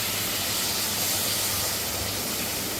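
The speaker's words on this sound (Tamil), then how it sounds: "தண்ணி விடலாம்." Water poured into a cooking pan holding taro pieces, a steady, loud hissing gush that runs unbroken from start to finish with no talking.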